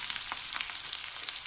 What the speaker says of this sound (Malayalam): നെയ്യ് ചൂടായി ഇതിലേക്ക് കടുക് ചേർക്കാം